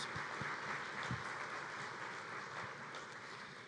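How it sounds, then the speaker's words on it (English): A conference audience at the NICE Conference and Expo applauds in a large hall, a steady, soft, distant wash of many hands with a few nearer claps standing out. "So give me a big round of applause for our Planning Committee and our partners."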